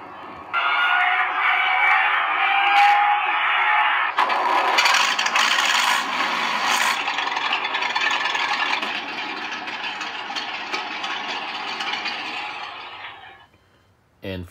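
Electronic tank sound effects from a TK-26 toy sound unit, a loud buzzy rumbling and rattling tone played continuously, shifting character midway, then cutting off near the end.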